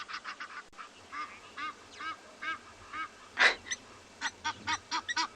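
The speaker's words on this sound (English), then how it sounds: "Mr. Egyptian Geese, we hear you." Egyptian geese honk in the open at sunset on a safari reserve, a steady series of harsh nasal calls at moderate distance, one louder honk standing out midway.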